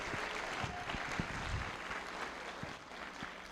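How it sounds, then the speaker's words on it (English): Applause from an audience at a school band concert in Brooklyn, a broad wash of clapping at moderate volume with some low thumps and room noise underneath. "I think they deserve another round of applause for how well they played that first song."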